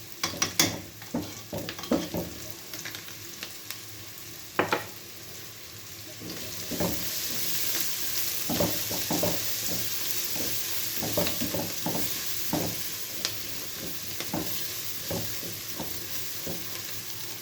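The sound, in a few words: frying minced garlic with onions in pan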